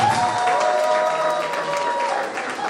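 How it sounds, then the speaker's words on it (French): A crowd at an evening family celebration applauds loudly, continuous dense clapping with some cheering and crowd voices beneath, while a sustained musical tone carries on in the background. "Est-ce qu'on peut applaudir très fort pour ce"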